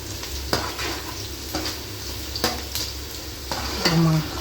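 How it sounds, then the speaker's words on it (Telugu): Chopped onions deep-frying in oil for an Andhra-style fish curry, a steady sizzle with sharp scraping stirs and utensil clinks recurring at intervals, close and fairly loud. "సో మనం కట్ చేసుకున్న ఆనియన్స్ అన్నీ ఆయిల్ వేసుకొని డీప్గా ఫ్రై చేసుకోవాలంటే బ్రౌన్ కలర్ వచ్చే వరకు ఫ్రై చేసుకోవాలి"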